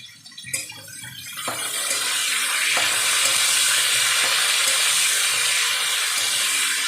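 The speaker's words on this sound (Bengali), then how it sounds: "হালকা একটু ভেজে নিলেই হবে, যাতে গন্ধটা চলে যায়, কাঁচা গন্ধটা" Spice paste for vegetable khichdi hits hot oil and fries lightly, with a few scrapes and taps giving way to a strong, steady, hissing sizzle that fills the rest of the stretch, close up and without speech.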